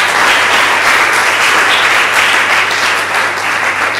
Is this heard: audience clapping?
yes